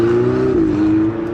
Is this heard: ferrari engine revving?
yes